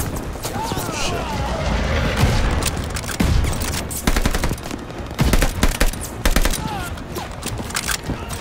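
Rapid gunfire in a World War II first-person shooter, with loud close bursts of automatic shots and scattered single cracks mixed with booming impacts, while a player talks over the shooting.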